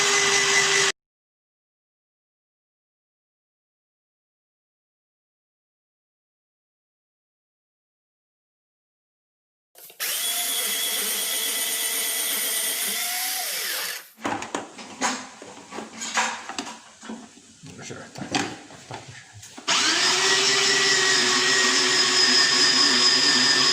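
A kitchen machine grinds cauliflower in loud whirring bursts, with a long silent gap between them, then a rougher, choppier stretch of clattering grinding before the steady whir resumes.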